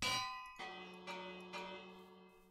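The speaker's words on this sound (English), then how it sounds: "They're like ignoring the fact that the bell is ringing." Village bell in Minecraft rings out in four distinct metallic strikes about half a second apart, each ding ringing and slowly decaying, with nothing else around it.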